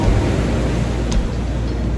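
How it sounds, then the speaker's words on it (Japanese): Ocean waves heard from a seaside Thai seafood restaurant in Itoshima, Fukuoka: a loud, continuous rush of surf with a steady wash and no voices. "波の音がすごいですねこれ。"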